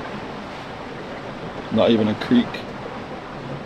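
Waves and water rush steadily against a sailboat hull moving at over 9 knots on the North Sea, a continuous close hiss and wash heard inside the boat while a person briefly speaks.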